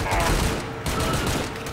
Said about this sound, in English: Machine gun's working the best.